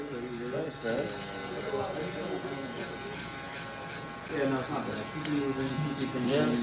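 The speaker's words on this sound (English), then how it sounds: "This is the Stylecraft Instinct shaver. It's super fast." A steady buzzing hum of a Stylecraft Instinct electric foil shaver runs throughout while a person talks over it.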